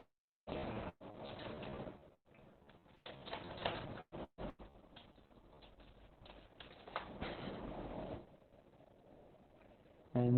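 Keys clatter on a computer keyboard in short bursts and pauses while a username and password are entered, fairly faint against a muffled room background, no voices.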